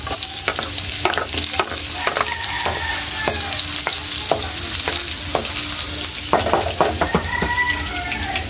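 Garlic and onion stir-frying in a hot pan, a steady loud sizzle broken by repeated scraping strokes of a spatula against the metal, close and rhythmic, with no talk.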